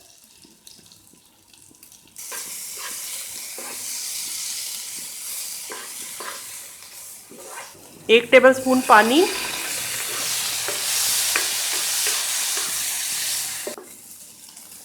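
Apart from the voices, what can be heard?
chicken frying and stirred in pan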